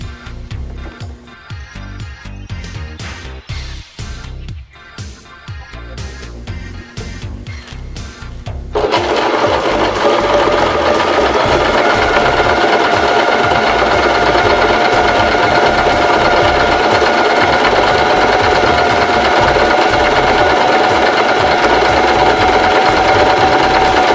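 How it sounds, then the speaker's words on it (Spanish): A Janome 1117S sewing machine runs a zigzag stitch, first in a lighter, uneven stretch, then settling after about nine seconds into a loud, steady, fast mechanical whir that continues unbroken to the end, with no talking. "Ahora vamos a iniciar costura zigzag en sus diferentes anchos de puntada, iniciando por la letra D."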